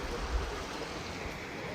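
A small mountain stream along an off-road track in the Alps, a steady close rush of flowing water with no breaks.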